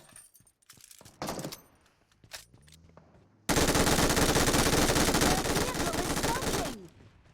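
Gunfire in the PUBG Mobile battle royale game: scattered single shots and short bursts at first, then a long, loud, sustained automatic burst lasting several seconds before it stops abruptly, with brief voices in the background.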